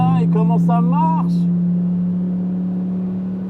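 Dodge Ram SRT10 V10 engine with an unfiltered exhaust, running as a loud steady low drone close by, with someone speaking briefly over it at the start before the engine continues alone.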